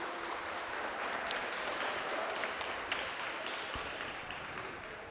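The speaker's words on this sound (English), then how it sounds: "let's give all these senior cheerleaders and all our great cheerleaders another great round of applause" A crowd at a high school basketball senior night applauds the senior cheerleaders, with faint, distant clapping echoing through a gym and holding steady before easing off, plus an occasional sharp tap.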